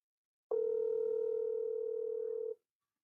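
A phone call's tone sounds as one steady, unbroken beep of about two seconds, close and clear, with no voices during it.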